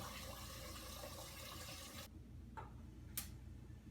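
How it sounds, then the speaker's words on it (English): Water rushes from a tap into a cooking pot for about two seconds, then stops, followed by a couple of faint clicks and knocks in a quiet kitchen. "fill your pot with some water"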